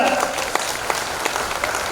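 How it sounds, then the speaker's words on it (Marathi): A crowd at a Vidarbha folk artists' council gathering in Kanhan bursts into loud, dense clapping that fills the whole moment, with a voice faintly audible beneath it. "एकदा जोरदार टाळ्या होऊ द्या."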